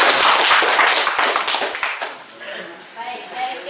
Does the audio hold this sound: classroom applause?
yes